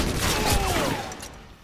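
Gunfire in the video game Modern Warfare 2 during a Search and Destroy match, a dense burst of shots fading over under two seconds.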